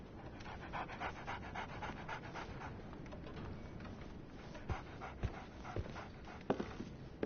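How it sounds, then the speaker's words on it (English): A dog pants rhythmically in the Sherlock Holmes video game, quick steady breaths close by for several seconds, with a few sharper clicks and knocks toward the end. "So, Barnes has a dog now."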